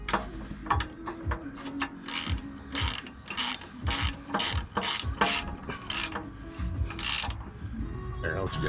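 Ratchet wrench tightening the last bolts during work on a Ram 3500 dually heavy-haul truck, rapid rhythmic clicking of the pawl in bursts of strokes, close and loud, with brief talk between.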